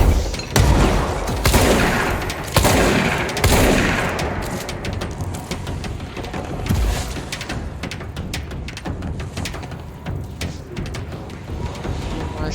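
Gunfire in the game Control, heavy continuous shooting with booming impacts, loud and close at first, then thinning into scattered rattling shots and echoes.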